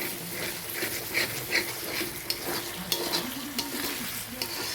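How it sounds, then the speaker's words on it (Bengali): Ground spices sautéed in oil and stirred in a pan beside freshly fried potatoes, giving a steady close sizzle broken by scraping stirs and clinks, with no talking. "আর এদিকে মশলা কষাচ্ছি"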